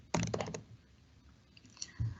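A contact name is typed on a computer keyboard: a quick, faint flurry of key clicks, then a pause and one more soft keystroke.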